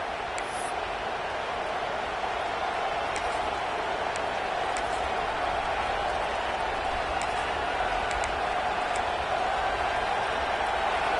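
Home crowd filling a college football stadium during an LSU game, a steady wide roar of cheering with no breaks, loud and continuous throughout.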